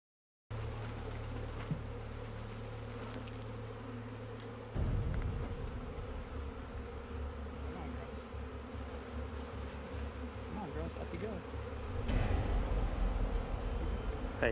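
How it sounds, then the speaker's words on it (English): A dense swarm of bees buzzes in a continuous droning hum, close and steady, swelling louder near the end, with no talking over it. "That's a lot of bees."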